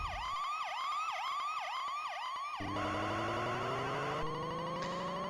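Wailing police car siren from a Commodore Amiga racing game, a loud synthetic up-and-down cycle repeating steadily in the first half, then giving way to a busier mix of engine drone and siren tones with no talking.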